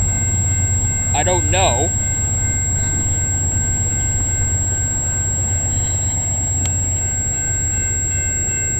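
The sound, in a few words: CN train passing, led by a single C6M locomotive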